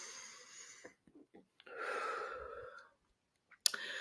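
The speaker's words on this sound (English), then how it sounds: "Deep breath." A single deep breath drawn in and slowly let out, close and fairly soft, followed by a short pause and a faint sharp sound at the end.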